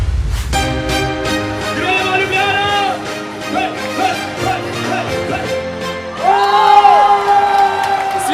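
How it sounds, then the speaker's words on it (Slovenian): A crowd at a 2018 FIVB World Tour beach volleyball match in Ljubljana, Slovenia, cheers loudly with whoops and shouts and swells into a stronger roar near the end. "Sliši se vzklike, navijanje, publika pomaga ogromno."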